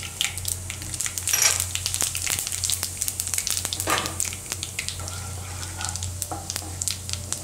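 Mustard seeds and cumin dropped into hot oil for a Gujarati curd papdi gathiya curry, a busy close crackle of popping seeds with sharp spits over a steady sizzle and a low stove hum.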